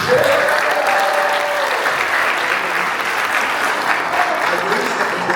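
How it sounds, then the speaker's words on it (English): Warm, sustained applause fills a room at a sports banquet as an audience cheers the Fighting Irish team, dense clapping throughout with a few voices mixed in. "Let's give a round of applause to the Fighting Irish"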